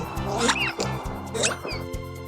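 Two female Campbell's mona monkeys trade contact calls, one initiating and the other answering, each a short, high, chirping cry rising above a steady low hum, with a pause between them.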